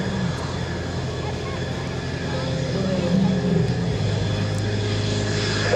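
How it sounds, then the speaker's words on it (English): An F-16 Viper jet engine spooling up at an air show, a sustained loud turbine roar and whine with a public-address announcer talking over it. "you hear the Viper. America's jet is what has become known as the F-16 firing up."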